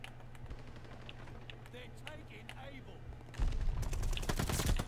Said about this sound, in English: And obviously, you can still hear the gunfire.